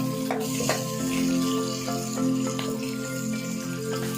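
Chopped okra (bhindi) frying gently in oil in a pan, a soft steady sizzle with light crackles over a constant kitchen hum, no voices.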